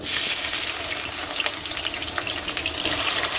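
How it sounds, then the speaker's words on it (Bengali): Onions dropped into hot oil topped with sugar in a wok for a mutton curry, giving a loud, steady sizzle and crackle that fills the whole stretch without a break. "কড়াইয়ে দিয়েছি তেল, তেলের উপরে চিনি দেওয়া আছে। এর মধ্যে এবার পেঁয়াজগুলো দিয়ে দেবো।"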